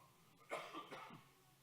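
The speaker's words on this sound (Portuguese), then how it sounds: "Ainda eu estou com aquela tossinha chata" A single short cough, quiet and close, with a slight throaty double burst in an otherwise hushed room during a Sunday church service.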